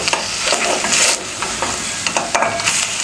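Meat frying in a covered pot, a close, busy sizzle with crackles and spits, stirring scrapes breaking through now and then, no speech.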